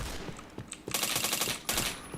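Rapid automatic gunfire in the shooter game Point Blank, bursts of fast rattling shots with scattered single cracks, dense and continuous in two long volleys over background game noise.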